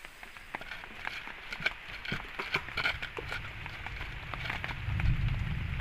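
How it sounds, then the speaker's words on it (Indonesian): Heavy rain falling outside a camping shelter, heard as soft, irregular pattering and ticking drops on the shelter over a quiet, steady backdrop, growing slightly fuller toward the end. "Nampaknya di luar sana cuacanya hujan ya."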